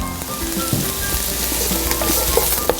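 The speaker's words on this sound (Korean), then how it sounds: "살짝 볶아줍니다" Green onion and julienned carrot stir-frying in oil, a dense, continuous close sizzle with faint scrapes and taps of a spatula throughout.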